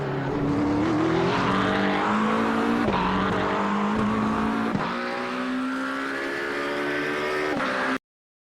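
Race car engine in an iRacing video game replay, a steady loud roar with pitch rising and dropping through gear changes as the car passes, continuous for about eight seconds before cutting off abruptly.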